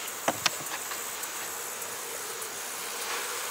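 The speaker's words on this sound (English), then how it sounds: "We're gonna take this swarm, we're gonna shake them down in this box and dump them in." A small honey bee swarm being shaken into a hive box makes a steady, dense buzz of many bees. A couple of sharp knocks come early on, and there is no talk.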